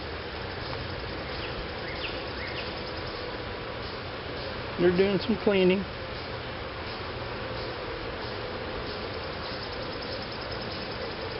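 Honey bees at an opened hive during an inspection give a steady, dense buzzing drone close by, continuing throughout while a person talks briefly over it.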